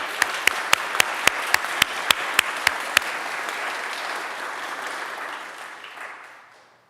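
Applause from a charity concert audience for Verity, a steady wash of clapping with a dozen sharp, louder claps near the start, then fading out toward the end.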